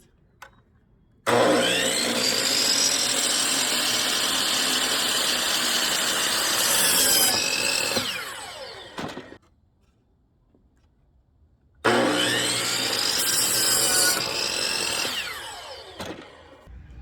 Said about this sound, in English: So I'm just going to cut up 6 of these 80-inch boards and 6 of the 24-inch boards.